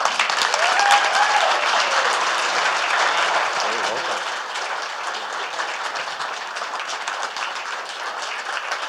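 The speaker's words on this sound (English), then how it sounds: "Please give John a round of applause, please." Town hall crowd in Claremont, New Hampshire bursts into loud sustained applause, heavy clapping mixed with faint voices and cheering that stays steady throughout.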